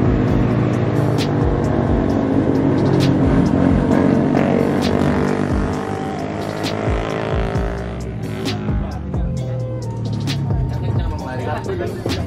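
A motor vehicle roars past on a road on a motorcycle ride toward Puncak Habibie, Sawarna, its engine loud and near before fading, while people talk over the steady wind and engine rumble.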